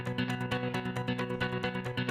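A sampled guitar from the Dream Audio Tools Indie Fingers Vol. 3 library, played clean without the degrader effect, plays a steady run of bright plucked, rhythmic notes that ring continuously and loudly with no voice.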